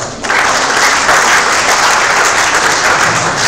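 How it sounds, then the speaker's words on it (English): A huge round of applause for guests on stage at the inauguration of the Jindal Social Enterprise Network, dense steady clapping from a large audience that starts abruptly and holds loud throughout. "Friends, let's give them a huge round of applause."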